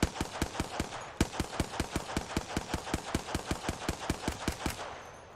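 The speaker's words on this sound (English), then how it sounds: "That's called suppressing fire." Suppressing fire in the Apex Legends video game: a rapid, evenly spaced burst of automatic gunshots that runs nearly continuously for several seconds, sharp and loud, with one brief pause near the start and no talk.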